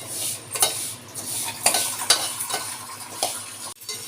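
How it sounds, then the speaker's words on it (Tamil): Moong dal roasts dry in a pan while a spoon stirs it, giving soft rustling and sharp scrapes and taps against the metal in an irregular rhythm, near and moderately loud. "பைத்தம்பருப்பு வறுத்து போட போகிறோம்"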